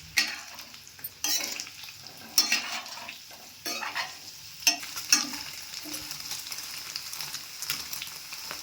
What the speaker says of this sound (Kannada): ಇಷ್ಟು ಫ್ರೈ ಮಾಡಿಕೊಂಡ್ರೆ ಸಾಕು